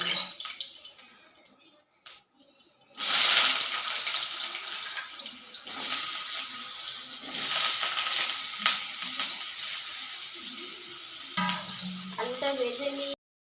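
Potatoes frying in hot oil give a loud, steady spluttering hiss that starts abruptly after a few quiet seconds of handling noises and continues close-up to the end, with scattered crackles and clinks.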